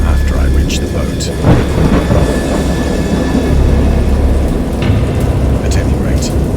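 Heavy thunder rumbles through steady pouring rain in a video game, a dense, loud storm with deep rolling booms and no clear voices.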